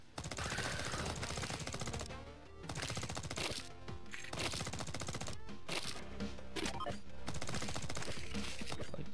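Rapid automatic gunfire from the XenoCrisis video game on the Nintendo 64 rattles almost continuously, dense bursts of retro shots with brief gaps, loud and close against game sound.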